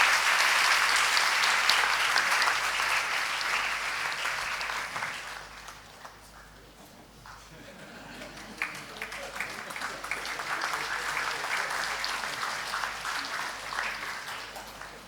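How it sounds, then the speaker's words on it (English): An audience at an MBBS rank award ceremony applauds for a medal winner, a long, dense round of clapping that dips midway and then swells again. "All are requested to give a huge round of applause for Miss Mahika Deshmukh."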